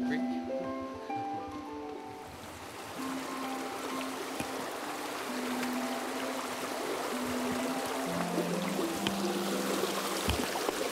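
Higher-than-usual river water flowing in salmon habitat, a steady moderate wash with soft trickling detail, while a tonal sound sits over it, mostly in the opening and closing seconds.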